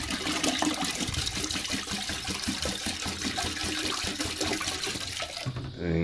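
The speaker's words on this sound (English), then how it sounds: "flush the handle, make sure all enough water's out as possible" A toilet with antifreeze in the bowl flushes with a loud, rushing swirl of water that holds steady for several seconds, then drains off abruptly into a gurgle near the end.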